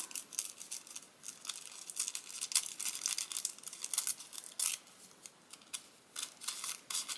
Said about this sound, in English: That's why I'm just going to tear around this just a little.